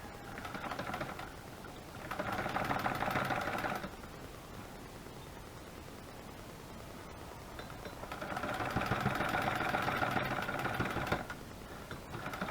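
A sewing machine stitches a rag quilt seam in two bursts of about two and three seconds, a fast, even whirring run that is fairly quiet, with soft handling noise in the pauses between.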